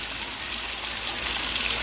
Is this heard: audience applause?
no